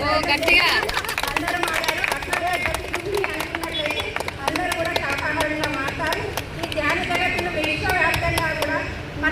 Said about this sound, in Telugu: క్లాప్స్ గట్టి కొట్టండి